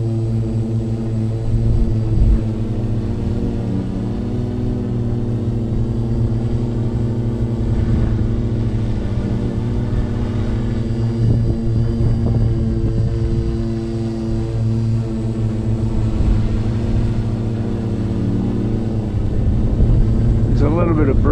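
A Redback Spider drone built on an EDU-650 frame hovers nearby, its propellers producing a loud, steady multi-tone whine and buzz that holds throughout with slight pitch wavering.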